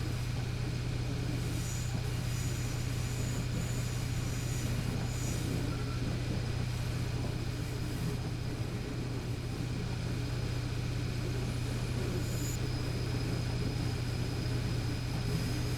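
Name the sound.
diesel locomotive at full throttle, video game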